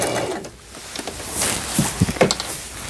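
A Singer 3722A sewing machine running a straight stitch clatters close by in uneven mechanical bursts, with a few sharper knocks near the end.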